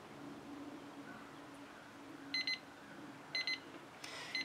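A timer alarm sounds a two-minute warning with bursts of high electronic beeping, three short clusters repeating about a second apart over quiet room noise.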